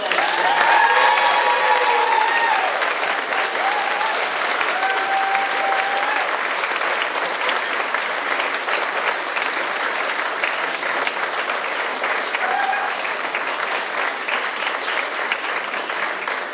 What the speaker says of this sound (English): as a last round of applause, we might want to thank the fantastic team who put this evening together